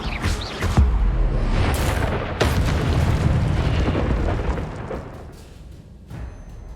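An Incendio fire spell goes off in a video game, a loud booming burst with crackling rumble that swells, holds for a few seconds and slowly dies away.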